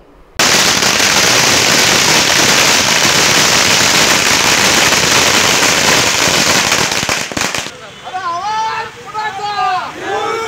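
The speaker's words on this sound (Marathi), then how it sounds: "शिवसैनिकांनी फटाके फोडून आणि पेढे वाटून" Firecrackers burst in a dense, loud, continuous crackling barrage at a street celebration, then cut off abruptly, followed by excited shouting voices and crowd babble.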